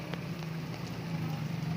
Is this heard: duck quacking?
no